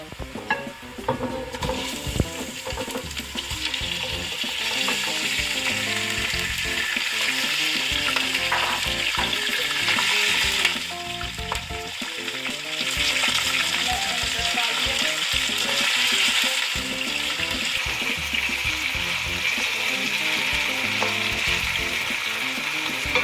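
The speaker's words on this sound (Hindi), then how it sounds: "चिकन को अच्छी तरह फ्राई करना है गोल्डन ब्राउन।" Chicken pieces fry loudly in a pan for biryani, a dense, continuous sizzle with stirring and scraping throughout, close and steady, with no talking.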